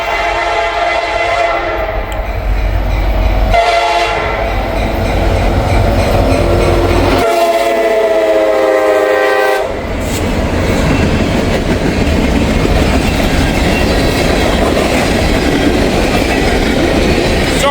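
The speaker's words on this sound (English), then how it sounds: "empty phosphate train headed back to Florida" An empty phosphate freight train rolls past heading back to Florida, a loud continuous rumble with wheel clatter and steel rail noise filling the whole stretch, briefly dipping in places but steady and close throughout.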